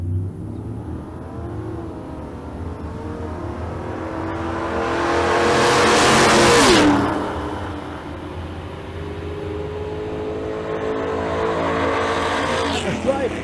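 Drag race at State Capitol Raceway with an MG gasser and a 1968 Mustang coupe: a loud engine roar swells to a peak and fades as the cars pass, with lower engine rumble before and after.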